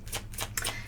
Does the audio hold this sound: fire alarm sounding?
no